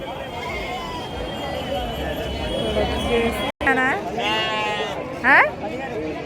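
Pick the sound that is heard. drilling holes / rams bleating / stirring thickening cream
rams bleating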